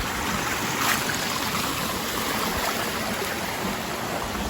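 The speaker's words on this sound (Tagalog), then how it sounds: "mapupunta na tayo sa Third River Crossing. Ito yung Third River." A mountain river rushes steadily at the third river crossing on the Mt. Diawangan trail, a dense, continuous wash of flowing water heard up close and alone for the whole stretch.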